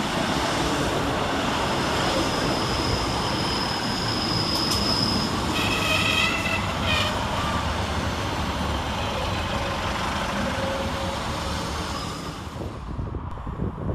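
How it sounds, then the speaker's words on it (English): A pair of ScotRail Class 156 diesel multiple units, 156505 and 156445, arrive at Pollokshaws West station on a Glasgow Central to East Kilbride service. Continuous loud rumble and wheel noise carry brief high squeals before easing near the end. "Next into the station is 156505 and 156445 with the 1626 Scotrail service from Glasgow Central to East Kilbride."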